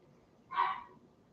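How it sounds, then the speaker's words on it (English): A small chihuahua gives a single short, sharp bark from the background of an indoor room, brief and fairly faint, with no voices over it. "you can hear my chihuahua barking in the background."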